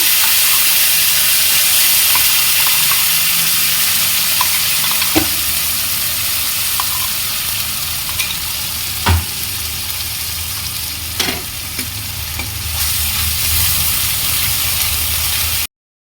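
Ground ginger, cumin and green chili paste hitting hot oil for a light tengra fish curry, a loud steady sizzle and hiss close up, with a few sharp clinks of a spoon against the pan.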